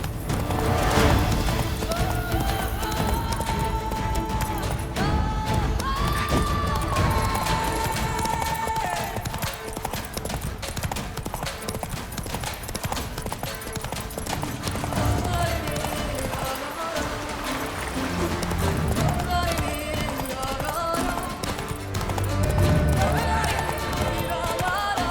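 Roach, the horse in The Witcher 3, gallops with steady, rapid hoofbeats over a continuous game soundscape for the whole stretch, with some crashes and occasional voices mixed in.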